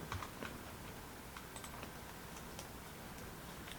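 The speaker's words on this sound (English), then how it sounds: "on Google we are going to type Suncheon" Fingers type steadily on a computer keyboard, faint quick clicks tapping in an irregular run against a low background hiss.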